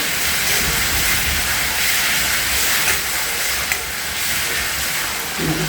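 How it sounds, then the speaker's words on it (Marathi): Green chilies sautéing in ghee in a home kitchen pan give a steady, close sizzle and hiss that runs unbroken throughout, with one small clink near the end. "तुपामध्ये मिरची परतली"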